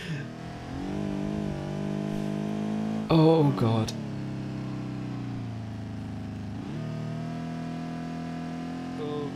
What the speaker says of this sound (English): the engine did not seem happy.